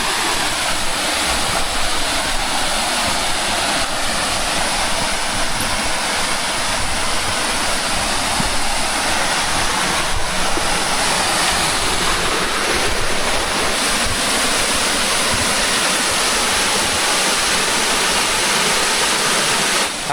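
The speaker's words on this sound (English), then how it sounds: "Check out this waterfall, guys." No Business Waterfall pours steadily into a swimming hole, a loud, continuous close-up roar of falling water that holds unbroken and even throughout.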